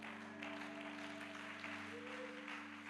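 A church congregation applauding together, a steady wash of clapping that holds evenly throughout, with a sustained musical tone underneath.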